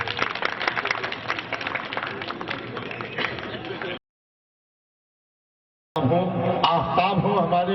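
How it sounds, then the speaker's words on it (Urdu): Audience applause greeting a guest at a gathering, a dense sustained clatter of many clapping hands that cuts off abruptly, falls silent, then resumes just as loud. "پرزور تالیوں میں استقبال کریں دوستوں"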